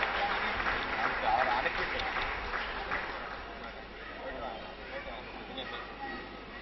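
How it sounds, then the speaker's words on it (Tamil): Audience applause at a farewell during a ninth-year astrology function in 2015, a steady, fairly loud wash of clapping from a crowd that continues throughout with a faint murmur of voices. "ஒரு பலத்த கைத்தட்டுடன் வாழ்த்தி வழி அனுப்புவோம்."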